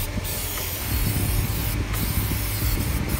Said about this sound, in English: Just keep on spraying it, and it's gonna start bubbling up just like that.